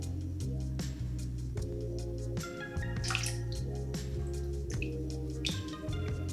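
Warm water sloshing and dripping as a sponge is dipped and used to wet the face, a steady close watery trickle with repeated drips and splashes, mixed with a faint tonal hum.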